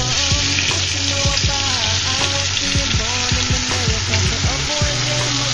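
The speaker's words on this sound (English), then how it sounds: "We're basically gonna saute this for the next, 20 minutes" Onions and olives sauté in a pan for Senegalese yassa, a loud, steady, close sizzle with scattered crackles and pops throughout.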